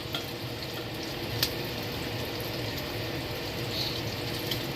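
Bacon frying in a pan gives a steady, close sizzle that crackles evenly throughout, with a few brief louder pops and no voices.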